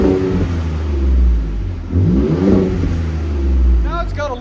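A Ford Raptor 3.5L twin-turbo V6 fitted with a Borla exhaust revs in two rising surges with a deep throaty drone between them, heard close, while a voice talks over it.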